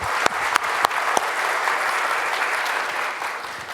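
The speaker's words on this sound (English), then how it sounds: "Let us applaud this wonderful thing." Congregation at a Sunday church service applauds, a steady wash of clapping with a few sharp individual claps standing out near the start, moderately loud and continuous.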